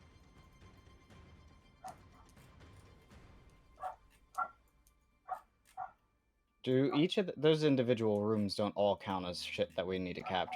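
A dog barks in short, spaced bursts from another room, faint and distant, several separate barks over a quiet background before a voice begins talking close by.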